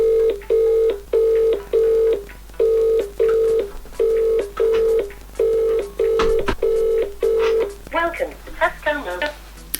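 Push-button telephone dialing: a steady run of about ten evenly spaced DTMF key tones, followed by a ringback signal with a voice faintly underneath toward the end.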